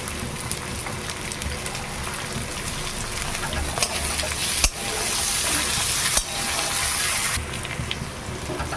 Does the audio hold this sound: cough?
no